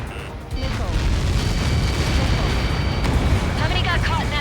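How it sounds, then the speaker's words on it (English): An explosion in the combat flight video game Ace Combat 7 sets off a loud, sustained roar and rumble that carries on throughout, with a voice speaking over it. "How many got caught in that explosion?"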